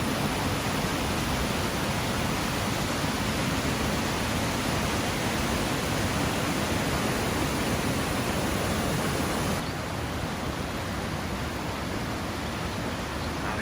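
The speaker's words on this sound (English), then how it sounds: "Ah, it's a little waterfall." A small waterfall beside a campsite trail pours in a steady, full rushing wash that holds unbroken throughout and eases slightly in level near the end.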